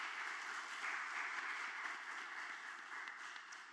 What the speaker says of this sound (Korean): 우리 축복하고 격려하는 박수 하도록 하겠습니다